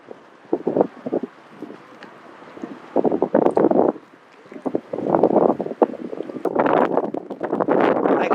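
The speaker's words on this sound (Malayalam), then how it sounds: "ഭയങ്കര കാറ്റ്." Strong gusty wind buffets the microphone at a beach, coming in loud irregular bursts and rumbles with brief lulls between them, and no voices.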